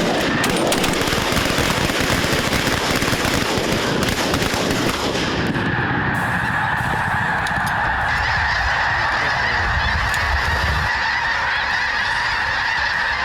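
A flock of snow geese honks loudly and continuously while landing during a Midwest snow goose hunt, with dense overlapping calls close by and heavy wind-like rumble that eases after the first few seconds.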